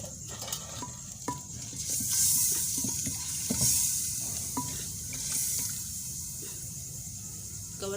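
Water is poured into a pot of mutton cooking for katwa gosht, a splashing rush over a low sizzle with faint clinks, with quieter background sounds.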